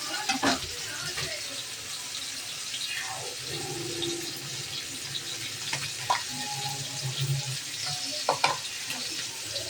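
Fish fries at the side of a pan with a steady crackling sizzle, its batter stuck to the bottom, with scattered clinks and stirring and some nearby talking.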